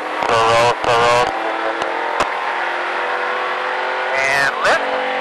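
A race car on a Richard Petty driving experience track, its engine droning steadily at mid pitch with a couple of louder rising bursts near the start and end, heard from inside or close by under an instructor's voice.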